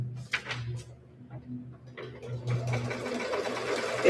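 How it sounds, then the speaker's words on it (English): Embroidery machine stitching seam lines, a quiet steady mechanical hum with light rhythmic ticking and a few clicks and handling noises, faint and close. "It's stitching the seam lines right now."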